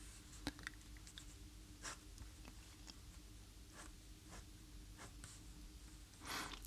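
Pen strokes sketching lines of a Lamborghini Revuelto drawing on paper: soft, scattered scratchy strokes, a few sharper accents, faint and close over a quiet background hum.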